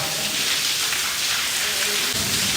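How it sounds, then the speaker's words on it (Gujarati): Heavy rain pours steadily throughout, a dense, loud hiss of drops drumming on surfaces with no pauses, during a stormy downpour with thunder and lightning around a family home. "એવો વરસાદ પડે"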